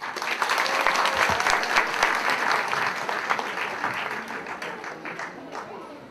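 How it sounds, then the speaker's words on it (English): Audience applause for upperclassmen at a church feast celebration in Chicago, a full room clapping steadily and loudly, tapering slightly toward the end. "Can we give another round of applause for our upperclassmen?"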